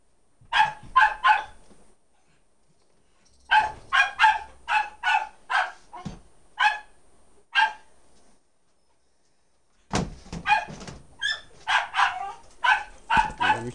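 A dog barks in repeated bursts of sharp yaps, three quick barks, then a longer run of eight or so, a pause, and another flurry near the end, loud and close with no talk over it.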